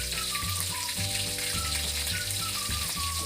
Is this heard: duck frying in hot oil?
yes